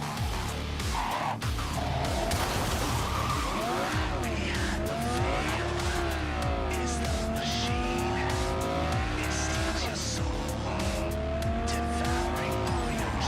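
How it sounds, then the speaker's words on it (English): A fast car in Cyberpunk 2077 drives with a continuous engine roar and rising, wavering tire squeals and skids, loud and sustained throughout. "This car's pretty fast, but he gets to his full speed a little bit too quick in my opinion."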